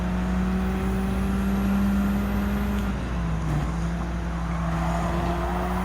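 Race car engine in Gran Turismo 7 on a circuit in the United Kingdom, holding a steady loud drone that dips in pitch as it brakes, then climbs again under acceleration, with no talk over it.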